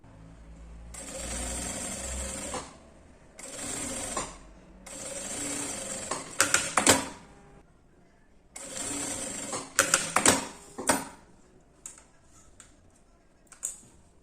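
A sewing machine stitches a seam on printed fabric in several bursts of rapid mechanical whirring, separated by pauses with clicks and rattles of handling, close and moderately loud.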